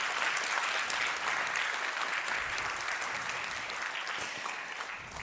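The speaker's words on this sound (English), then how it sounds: "Another round of applause." Sustained applause from a conference audience on a main stage for a speaker, dense steady clapping throughout that eases slightly toward the end, with no talking.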